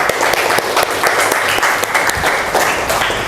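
An Indonesian classroom gives a student a round of applause: loud, dense, continuous hand clapping from the whole class, close and sustained throughout.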